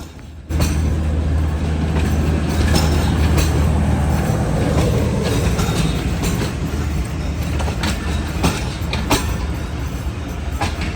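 The Tezgam Express train rumbles past close by at a station in Pakistan, loud and steady, with a deep rolling roar and repeated metallic clacks of wheels over rail joints.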